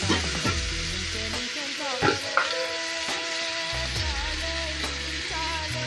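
Ridge gourd frying in a pan is stirred, with a steady sizzle under repeated scraping and clattering strokes of a spoon, close and fairly loud, with no voices.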